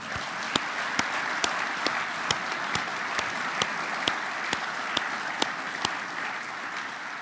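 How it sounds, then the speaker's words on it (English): Audience applause at a high school sports awards ceremony, steady and moderately loud, carried through by a string of sharp, evenly spaced individual claps. "Probably worth more of a clap."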